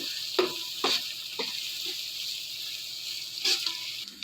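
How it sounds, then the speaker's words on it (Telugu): Ginger paste stirred into frying egg dum biryani masala in a pan, a steady sizzle with several scraping stirs of a spoon throughout. "అల్లం పేస్ట్ యాడ్ చేస్తున్నానండి మంచి కలుపుకుందామండి"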